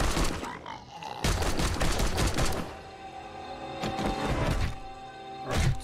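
Grenade or pipe bomb explosions in a video game, giving a loud close barrage of rapid blasts and gunfire-like bangs in dense clusters with brief lulls, with no clear speech.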